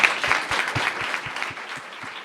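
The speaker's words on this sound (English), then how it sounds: "audience, can we give our panelists a round of applause?" An audience at a panel event on women's health and IVF equity gives the panelists a round of applause, with a soft rhythmic thump of clapping close to the mic that tapers off toward the end.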